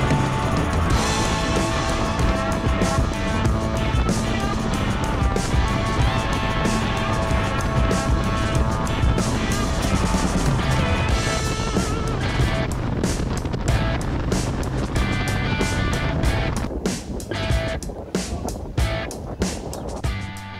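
Big Harley-Davidson motorcycles cruise a desert highway near Las Vegas through construction, heard as a steady, loud rumble of engines mixed with heavy wind buffeting that stays constant throughout.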